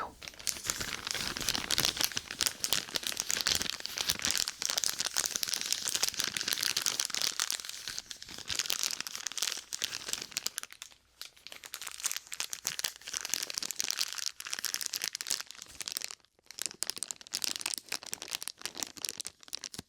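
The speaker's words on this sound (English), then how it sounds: "I'm just crinkling trash" Trash crinkled right against an ASMR ear microphone in a close, loud flurry of crackling and crumpling with brief tearing crunches, pausing for a moment twice before resuming, with no talking over it.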